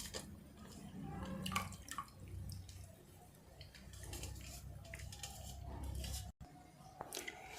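Mushrooms soaked in turmeric water are lifted out into another bowl, with wet squishes and water drips and splashes at close range, some louder bursts and a brief gap near the end.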